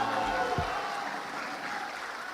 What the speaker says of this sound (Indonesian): Marilah kita berikan sekali lagi tepuk tangan bersama.